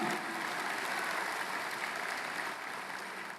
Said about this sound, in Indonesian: beri tepuk tangan buat Yesus yang sudah bangkit